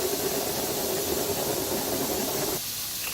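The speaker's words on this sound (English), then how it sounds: "I'm going to go and grind up some fenugreek" Electric spice grinder whirring through fenugreek seeds, a steady loud hissing buzz with a faint mid-pitch motor hum that cuts out near the end.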